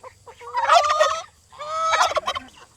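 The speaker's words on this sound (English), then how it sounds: "Those guineas are kind of tame to be guineas." Guinea fowl give two loud, close, raspy chattering call bursts separated by a short pause, with no talking.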